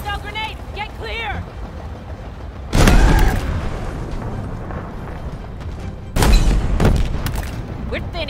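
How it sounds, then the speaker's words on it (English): Two heavy grenade explosions in the Halo Infinite campaign, each a sudden loud boom with a rumbling tail, a few seconds apart against battle ambience. "Hostile grenade, get clear."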